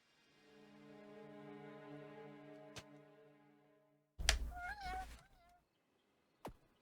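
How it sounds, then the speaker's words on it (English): Cat meowing in the video game Shine Within, a single drawn-out, rising-and-falling meow standing alone after a low tonal hum, followed by a brief quiet click. "I hear a cat for some reason"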